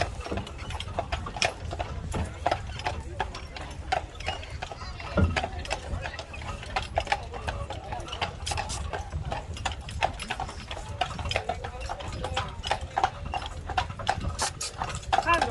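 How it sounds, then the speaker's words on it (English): Horse team hooves clip-clopping along a street on Mackinac Island, a steady rhythmic patter close by over background bustle, with a person talking throughout. "And one of our most famous horses on the island is here to the right."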